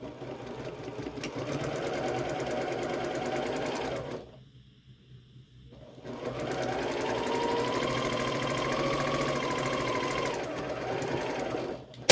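A foot-pedal sewing machine stitches quilt pieces for a Valentine quilt. It makes a close, steady mechanical whir in two runs, with a brief pause between them.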